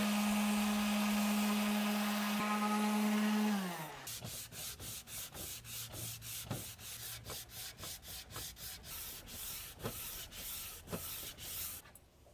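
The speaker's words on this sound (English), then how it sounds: "And here I am sanding, my lord, sanding." A power sander whines steadily on pallet wood for a few seconds, then winds down, followed by rhythmic back-and-forth hand sanding strokes rasping across the wood.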